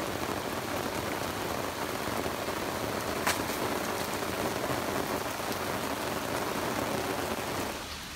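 Steady rain pours onto an outdoor patio and roof overhang, a dense, even hiss of drops that stays loud and constant throughout before easing slightly at the very end.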